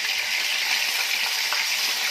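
Vinegar hitting golden garlic frying in a pan for koshari sauce, producing a loud, dense, continuous sizzle that stays steady and close throughout the short moment, with no voices.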